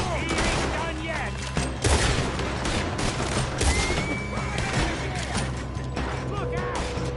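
Gunfight during a robbery in Red Dead Redemption 2, dense continuous gunfire with overlapping shots and mechanical clatter, some louder cracks standing out, under faint background voices.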